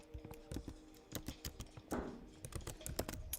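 Typing on a computer keyboard, a quick irregular run of crisp, close key clicks with a few heavier thumps, heard on its own without talk.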